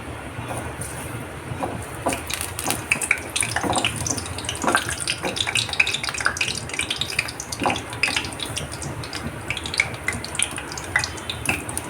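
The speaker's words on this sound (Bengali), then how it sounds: "এখন আমি এটাকে তেলে ভাজবো" Sweets deep-fry in a pot of oil, giving a dense, continuous bubbling sizzle with frequent sharp pops and crackles throughout, fairly close and loud, with no voices.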